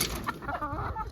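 Chickens clucking close by, a busy overlapping chorus of short throaty calls with no talking.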